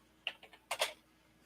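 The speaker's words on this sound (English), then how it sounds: "Make sure we're typing everything correctly" Someone types on a computer keyboard: a few quick, close keystrokes, a short pause, then a louder double clack, in a quiet room.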